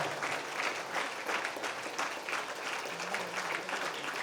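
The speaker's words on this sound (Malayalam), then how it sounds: "നല്ല കാര്യോടെ ഒന്ന് കൈയടിച്ചേ" An audience claps together at the official launch event of a smart-living company, a sustained ripple of applause from a crowd filling the room at moderate volume, with no clear speech over it.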